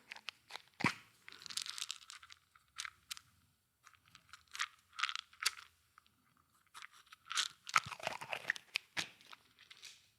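Pills are crunched and chewed up close in ASMR style, producing irregular bursts of crisp crunching separated by brief quiet gaps, fairly soft overall.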